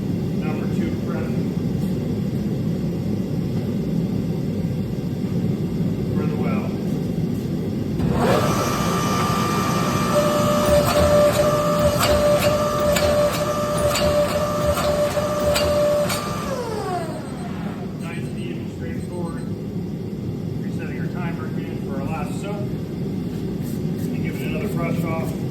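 A hydraulic press forging a Damascus steel billet in a smithy, heard as a loud, steady mechanical whine with a sustained tone lasting about eight seconds over a constant low roar of shop noise.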